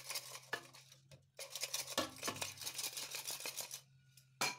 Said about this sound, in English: and shake it a little bit, and if there is any excess flour, shake it out.